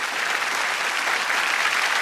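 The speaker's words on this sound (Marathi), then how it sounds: "त्यासाठी टाळ्या झाल्या पाहिजेत." A crowd breaks into dense, even applause, loud and sustained throughout the short stretch with no talking over it.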